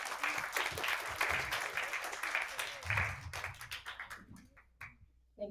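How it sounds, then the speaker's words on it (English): Audience applause at an interfaith prayer gathering, a dense burst of clapping that thins out and fades over several seconds, fairly quiet and distant, with a voice briefly heard at the end. "Please, a big round of applause for them."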